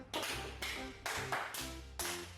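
Schoolchildren in a classroom lesson clapping for themselves in a few short rhythmic bursts, fairly close, with brief pauses between the rounds of claps.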